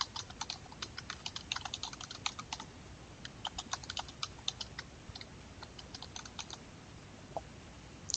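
Rapid keystrokes on a computer keyboard come in irregular bursts, up close, as text is entered into office scheduling software, with a steady low background hiss and no voices.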